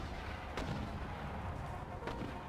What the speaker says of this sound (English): I just hate the sound of those mortars boom booming, boom booming as we move forward